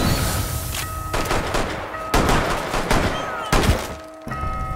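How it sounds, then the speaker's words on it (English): Several sharp gunshots and heavy thuds punctuate a busy, layered soundscape in the video game Rainbow Six Siege, with a steady electronic tone humming underneath. "Gunshots rang."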